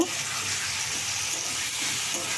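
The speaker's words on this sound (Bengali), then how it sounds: "এরপরে আমি ভেজে রাখা আলুগুলো দিয়ে দেব" Fried potatoes go into sizzling spiced oil, giving a brief, steady, close frying hiss with no speech.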